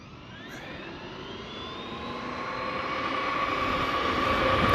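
A Traxxas XRT RC car with a modified servo, suspension and combo accelerates away on a road, its motor whine rising steadily in pitch and growing louder over several seconds, with no voices.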